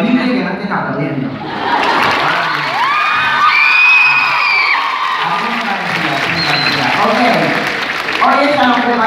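An audience claps, cheers and whoops for a performer, a lively burst of applause with shouts that swells and then fades under a person talking.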